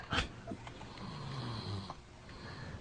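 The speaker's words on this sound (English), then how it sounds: "the snoring's getting better" A man snores with slow, rough breaths, a low rasping drone rising and falling at moderate volume with no talking.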